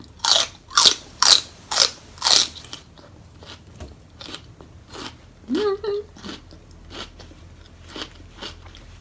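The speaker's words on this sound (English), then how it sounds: "celery is fibrous, so you have to really chew it well." Close, loud crunching of celery opens with five sharp rhythmic bites, then settles into softer chewing; a brief spoken murmur breaks in midway.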